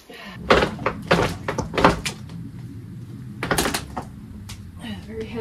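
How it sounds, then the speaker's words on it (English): A very heavy survival bunker door is worked open, a series of loud close thumps and scraping clunks in bursts over a low rumbling background, with people speaking nearby. "very heavy door."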